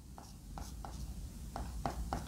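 Chalk or marker writes on a board during a mechanics lesson, making a series of short, scratchy strokes in an uneven rhythm, close and fairly clear, with a louder knock at the end.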